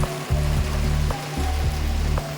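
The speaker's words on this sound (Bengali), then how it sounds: "সাংঘাতিক বৃষ্টি হচ্ছে, এত বৃষ্টি মানে কিছু বলার নেই" A torrential downpour roars in a constant, close wash of noise, with an intermittent low drone pulsing beneath it.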